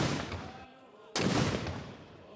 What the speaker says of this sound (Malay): 17 das tembakan meriam dilepaskan sebagai menandakan bermulanya majlis istiadat berbedak pengantin diraja.